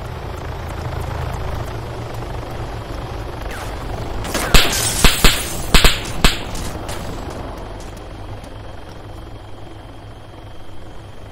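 A helicopter in the military game Arma 3 drones as a low, steady rumble, broken midway by a short cluster of sharp gunfire-like cracks before the hum continues alone.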